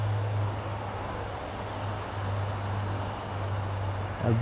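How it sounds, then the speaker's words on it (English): A big train rolls past a wild campsite, a continuous low rumble with a steady droning hum and a faint high whine, fairly distant and unbroken throughout. "That's a train, by the way."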